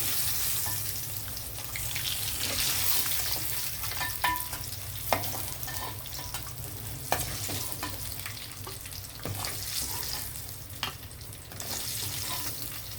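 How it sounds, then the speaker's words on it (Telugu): Eggs frying in oil in a pan for an egg curry, a steady close sizzle with light stirring clicks and scrapes throughout, no one speaking. "ఇదిగోండి గుడ్లు వేగిపోయాయి తీసేస్తున్నాను నేను"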